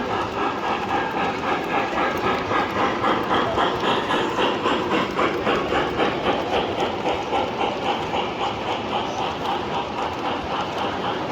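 A Union Pacific Big Boy model locomotive runs on O-scale three-rail track at a train show, giving a steady rhythmic clatter and hum that stays loud and continuous with crowd murmur behind it.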